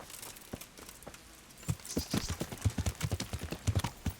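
Horse hooves clip-clopping in Kingdom Come: Deliverance, starting sparse and then settling into a quick, uneven walking rhythm of close, distinct hoof strikes, with a brief faint hiss partway through.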